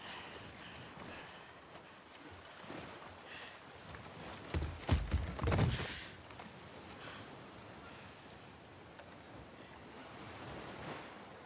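Water and waves in The Last of Us Part II, a steady soft wash of surf with a louder surge and splash in the middle, otherwise a low continuous rush with no speech.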